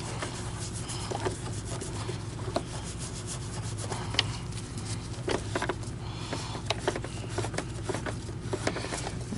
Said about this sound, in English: I don't have to sit here and scrub these wheels